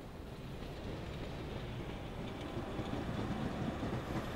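A monorail train in the video game Stellar Blade, heard as a steady, fairly quiet rumbling drone with faint rhythmic clatter, continuous throughout without any talk.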